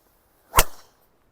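A PING G440 Max 9-degree driver strikes a golf ball once, a single sharp crack with a short whooshing tail, clear and close.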